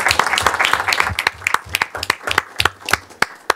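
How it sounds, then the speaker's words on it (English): Applause at a board of education meeting from a modest group, with distinct individual claps clearly audible, dense at first and then thinning into scattered, uneven strikes. "Can we give one more round of applause for all of our liaisons?"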